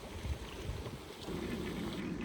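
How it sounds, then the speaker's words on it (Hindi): Water rushes down from above into a traditional water-powered atta chakki flour mill at Panchari, Jammu and Kashmir, making a steady broadband wash that grows slightly louder partway through, with no talking. "बाकी ऊपर से पानी नीचे जा रहा है, ये देखो जी।"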